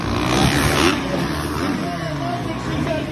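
Motocross bikes rev at a dragstrip, a nasal engine whine rising and falling over crowd babble and a nearby voice, loud at first and then settling into a steadier hum.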